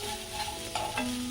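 Vegetables frying in hot oil for hagalakayi palya (bitter gourd stir-fry) with a spoon stirring through them, a soft steady sizzle broken by a couple of scraping knocks against the pan near the end.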